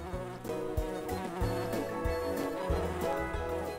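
A bumblebee buzzes close by among summer flowers such as parsley and Queen Anne's lace, a steady droning hum that swells and fades slightly over a few seconds.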